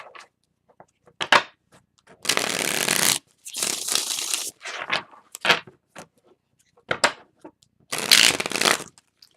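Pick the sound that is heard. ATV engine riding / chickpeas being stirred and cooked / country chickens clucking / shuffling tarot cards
shuffling tarot cards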